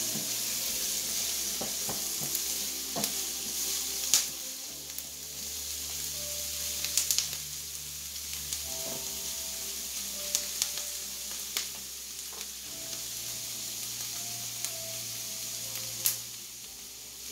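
Onions and garlic frying in a pan, a soft steady sizzle broken by scattered sharp pops and clicks of spatula on metal, close but fairly quiet, with a low hum in the background and no talking.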